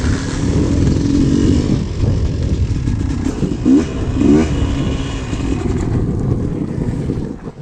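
Yamaha YZ250 dirt bike ridden after shifting into third gear, a loud engine drone buried in strong wind buffeting, with a couple of brief rising revs midway before the roar eases toward the end.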